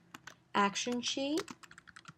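Keystrokes tapping on a computer keyboard while entering iOS code, a steady patter of light clicks near and moderately quiet, with a short burst of voice or tone sounds in the middle.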